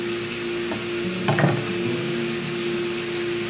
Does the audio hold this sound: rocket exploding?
no